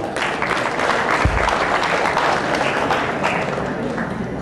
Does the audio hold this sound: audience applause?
yes